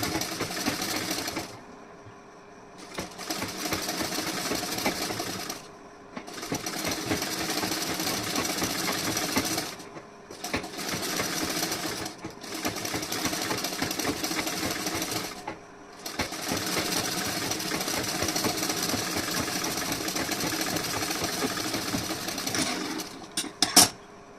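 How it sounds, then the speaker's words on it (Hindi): Fabric runs through a sewing machine for a neckline design in long, steady runs of fast, even stitching, broken by brief pauses and heard close up with no talk. "आपको आधे इंच से कपड़ा यहाँ पे लेके सिलाई लगानी है।"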